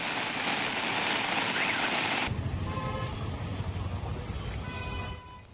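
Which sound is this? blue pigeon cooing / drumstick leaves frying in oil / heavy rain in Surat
heavy rain in Surat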